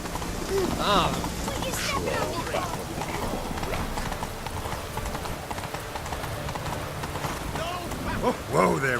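Hooves of Roach, the horse in The Witcher 3, clip-clopping at a steady pace close by, with faint rain-like ambience behind and voices talking over the rhythm.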